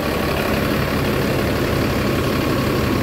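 A heavy diesel bus engine idles steadily nearby, a continuous low rumble with a constant mechanical drone and no voices.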